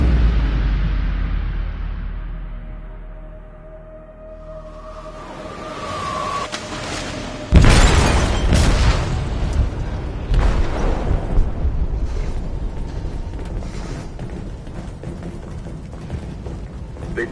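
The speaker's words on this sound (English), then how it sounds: "They detonated an explosive in the hold." An explosive detonates in a ship's hold in the game Detroit: a low rumble builds, then a sudden loud booming blast is followed by long crackling, rumbling debris and ongoing mechanical roar.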